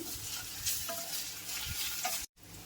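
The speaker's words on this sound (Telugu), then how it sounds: "అల్లం వెల్లుల్లి పేస్ట్ వేసుకొని పచ్చివాసన పోయే వరకు ఫ్రై చేసుకోవాలి" Ginger garlic paste frying in a pan with steady sizzling and stirring scrapes, close and continuous, with a brief cut near the end.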